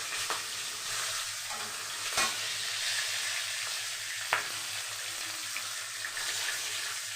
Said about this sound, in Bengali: কাঁচা লঙ্কাটা একটু ভাজা ভাজা হয়ে যাবে